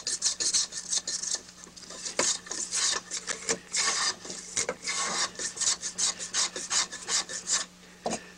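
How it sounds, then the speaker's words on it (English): A hand tool rasps and scrapes rhythmically while cutting a groove in wood during bamboo fly rod making, close and steady with repeated strokes and no speech. "You can tell by the sound of the cut when you're down to"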